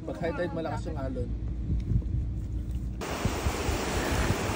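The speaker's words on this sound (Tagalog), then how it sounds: "Pag high tide, malakas yung alon." Strong high-tide waves wash onto a beach at Umm Al Quwain, UAE, a steady close roar of surf that takes over fully in the second half after a voice speaks over it at first.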